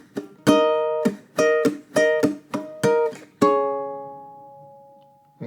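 A ukulele playing a short phrase from a song, about nine plucked notes and chords in an uneven rhythm, close and clear, ending on a ringing chord that fades out, with no talking.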